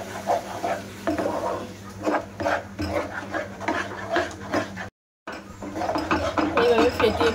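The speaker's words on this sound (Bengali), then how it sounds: "এইভাবে ফেটাতেই থাকতে হবে, এইভাবে ফেটিয়ে নেব।" Milk powder gujiya dough mixture beaten steadily with a wooden spatula in a bowl, giving repeated close scraping and knocking strokes in an uneven rhythm, with one brief cut of silence midway.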